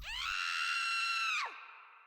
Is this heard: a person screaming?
yes